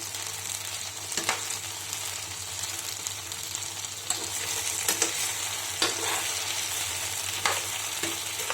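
Ivy gourd (dondakaya) fries in oil in a pan with a constant soft sizzle, while a spoon stirs it with irregular scraping strokes close by.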